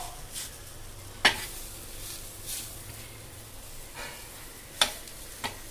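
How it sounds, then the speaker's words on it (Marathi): Pitla, a gram-flour dish, is stirred and roasted in a pan with a soft continuous sizzle and scraping, broken by a few sharp clanks of the utensil against the pan. "15 ते 20 मिनटं असं बारीक करून उलटं पालटं त्याला असं भाजत राहायचं"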